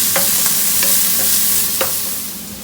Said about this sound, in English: Just fry the onions till it's just about tender.